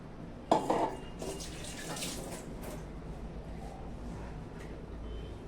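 Water poured into a mixer jar to rinse out leftover ground masala for dal fry, a short splash followed by a steady low trickle and sloshing with a faint clink, close by and without talk.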